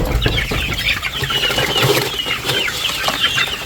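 Chickens, a local native batch, clucking and scratching as they feed, a dense busy flock with soft calls and wing flutters close by.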